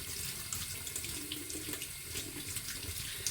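Vegetables, likely kale for a poultry soup, rinsed under a running kitchen tap; a steady close stream of water splashes over the leaves without pause, with no talking.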